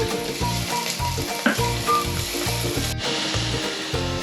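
Ginger sizzles steadily in a hot pan for chicken arroz caldo, a continuous close frying crackle broken by regular scraping, clacking stirring strokes.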